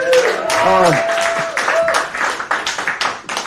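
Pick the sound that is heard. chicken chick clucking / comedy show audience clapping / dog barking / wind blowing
comedy show audience clapping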